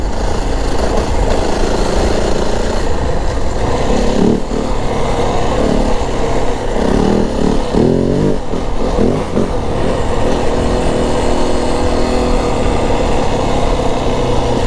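A 2025 Yamaha WR450F dirt bike runs loud and close throughout the clip, its engine droning steadily with the pitch rising and falling as the rider works the throttle over hilly, washed-out trail.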